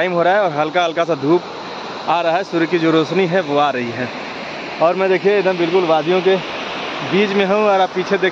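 Waterfall and river flowing through a valley in Himachal Pradesh in the evening, a steady broadband rush of water running continuously beneath someone speaking throughout.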